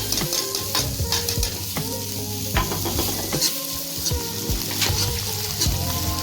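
Onions and green chillies fry in a pan for Punjabi sarson da saag, with steady close sizzling and repeated stirring scrapes throughout, no voices.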